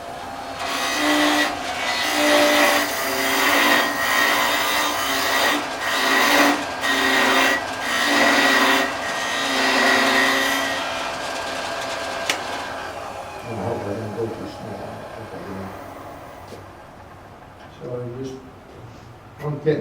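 A gouge cuts a wooden top spinning on a wood lathe, making a rough, hissing scrape with rhythmic pulses for about twelve seconds. Talking follows over quieter workshop sounds.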